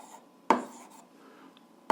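A pen writing out algebra fractions on paper gives a quiet, close scratching, broken by two sharp taps of the pen against the page.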